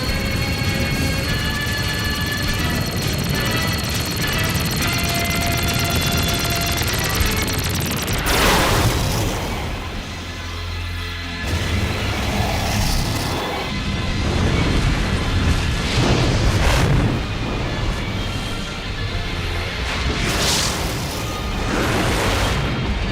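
A main gun fires amid explosions: a dense, loud roar of blasts and rumbling with a sharp boom partway through and repeated heavy crashes afterward, continuous throughout.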